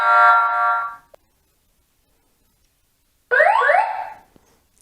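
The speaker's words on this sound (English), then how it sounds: "you can test different tones if you want your alarm tones to be tested" X Sense home security system sounding test alarm tones, first a steady buzzing tone, then a warbling siren-like sweep after a short silence, loud and close.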